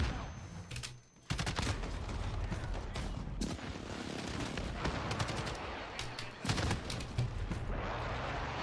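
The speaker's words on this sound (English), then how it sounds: "Precision airstrike." A precision airstrike in the Modern Warfare video game on the Shipment map unleashes a sustained barrage of explosions and rapid gunfire, dense and loud for most of the stretch after a brief lull near the start.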